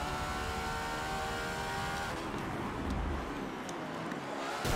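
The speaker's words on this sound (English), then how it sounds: "I've got cars on the inside and I can hear one." Hypercars race in Forza Motorsport 7, with a steady, loud engine drone and nearby cars passing, the tone shifting partway through as another car closes in on the inside.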